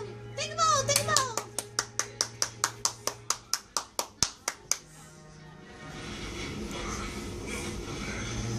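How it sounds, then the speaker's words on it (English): A child claps their hands in a steady, evenly spaced run of about sixteen crisp claps, preceded by a voice, with faint room chatter following. "Clap your hands."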